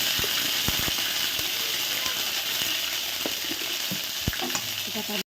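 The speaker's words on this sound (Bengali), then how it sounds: "দুটো শুকনো লঙ্কা, কিছু ফোড়ন দিয়ে দিচ্ছি" Dry red chillies, bay leaf and whole spices sizzling in hot oil in a pan, a dense close crackle with scattered sharp pops and light scraping from a stirring spoon, no voices.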